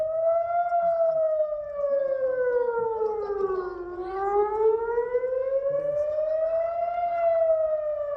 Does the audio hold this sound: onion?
no